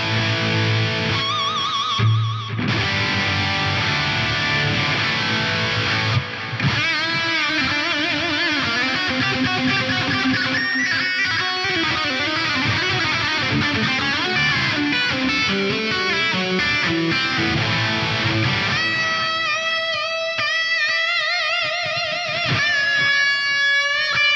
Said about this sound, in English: using just a single reverb block, I've got an epic delay and reverb